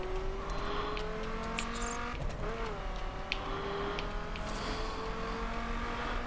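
Car in The Crew racing game accelerating, the engine note rising steadily in pitch as it revs up, loud and continuous with faint tire noise.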